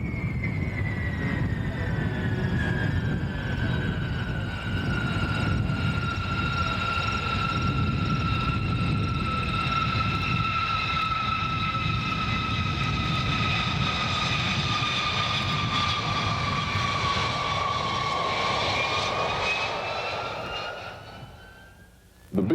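B-52 bomber jet engines at Griffiss Air Force Base in Rome, New York, produce a loud, sustained roar with a high whine that slowly sweeps in pitch, holding strong before tapering off near the end.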